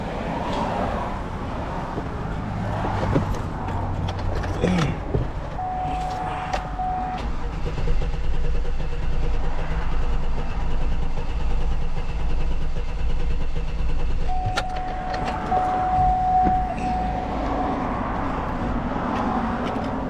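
2009 Hummer H2 V8 idles with a dead, misfiring cylinder, a low uneven rumble heard up close, with intermittent clicks and a faint whine coming and going.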